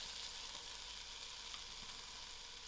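Ginger garlic frying and being stirred in a hot pan for spicy lamb noodles, a loud, steady, even sizzle with no pauses, heard up close with no talking.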